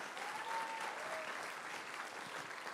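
Steady, even applause from a crowd at a Habitat for Humanity charity auction gala in Los Angeles, heard from a distance, with a faint voice briefly rising through the clapping.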